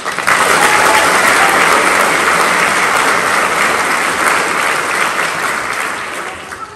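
A large audience applauds an orchestra at an opera house, a dense, loud, continuous roar of clapping that holds steady and then tapers off toward the end.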